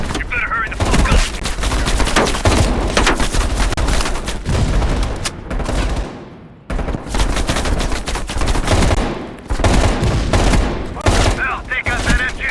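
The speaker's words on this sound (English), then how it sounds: "Heavy MG on the ridge!" Heavy machine gun fire in the Call of Duty Black Ops Cold War campaign, loud and sustained, with long rattling bursts, a short pause midway, then more firing, mixed with other battlefield shots.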